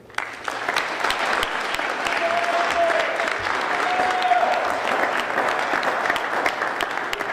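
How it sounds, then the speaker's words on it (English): Sustained applause from an audience greeting a speaker at a lecture, dense steady clapping that starts abruptly and fills the room for several seconds, with faint voices underneath. "That was very premature clapping"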